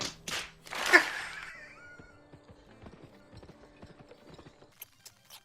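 A horse in the Western video game GUN whinnies loudly near the start, followed by a run of light, irregular hoof clops and clicks that trail off quietly.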